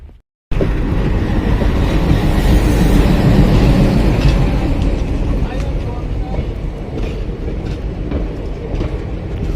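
A train rumbles steadily and loudly after a brief quiet start, with continuous rolling noise and faint clatter; voices are heard faintly in the background.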